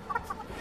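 Short clucks from laying hens, a few quick calls close by in a henhouse with soft background rustle.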